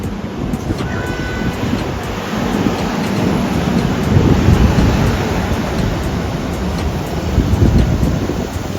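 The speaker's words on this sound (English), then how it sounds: "Here comes the train." A Chinese high-speed train pulls in at a station platform with a loud, broad roaring rush that swells and surges unevenly over several seconds and drowns out everything else.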